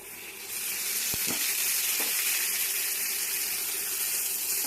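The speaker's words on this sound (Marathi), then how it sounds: "ते आपण असे तव्यावर असे टाकून ठेवूया आणि थोडे तेल सोडूया" Steady loud sizzling of tomatoes frying in oil on a pan fills the whole clip, with a couple of light clinks near the start.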